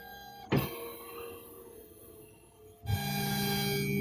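iDraw 2.0 A3 pen plotter drawing diagonal lines at 8,000 mm per minute, a quiet mechanical whir with two sharp clicks where the carriage moves start and stop, no voices.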